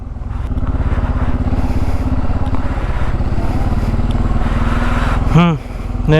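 A motorcycle pulls up at a hotel in Murshidabad, its engine a steady, close, throbbing drone that cuts off near the end, with voices heard around it.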